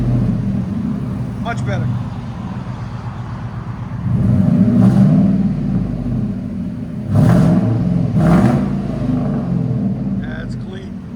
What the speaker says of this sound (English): 99 Ford F-150 true duals with Borla ProXS